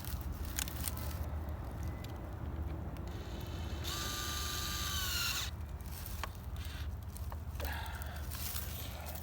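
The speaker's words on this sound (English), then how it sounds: "put the bolts in, use the impact" A handheld impact wrench drives bolts into a Hyper Tough grass trimmer during outdoor assembly, giving a short, loud whirring burst midway through, with faint clicks and handling noises around it.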